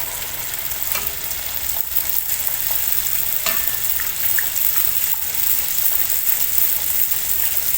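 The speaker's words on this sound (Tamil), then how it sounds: "இப்போது நம்ம தட்டி வச்சுருக்கிறத எண்ணெயில் சேர்த்துடலாம்." Pathir peni dough frying in hot oil over a medium flame gives a steady, dense sizzle that runs unbroken throughout, with small crackles and pops scattered on top and no voices.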